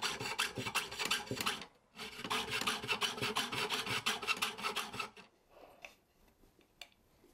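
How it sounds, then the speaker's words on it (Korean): Bronze flame ornament for a Buddhist palanquin being cut by hand with a saw, a steady rapid rasping of many short strokes that pauses briefly, resumes, then stops, leaving faint scattered clinks near the end. "톱질을 하고 있는 문양은 불길이 타오르고 있는 형상인 화염이다."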